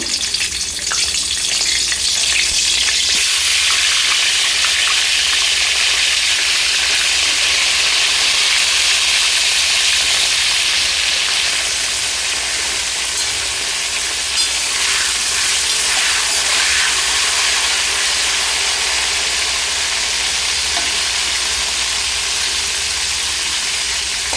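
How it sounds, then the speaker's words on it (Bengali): Cut cauliflower pieces fry in hot oil until browned, making a loud, continuous sizzle and crackle that holds steady throughout with no talking. "এই তেলে আমি দিয়ে দিব কেটে রাখা কফি কফিগুলো লাল করে ভেজে নেব"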